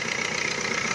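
Close, steady idle of a 2017 Maruti Swift VDI diesel engine, a continuous moderately loud hum with a faint rhythmic knock and no voices over it.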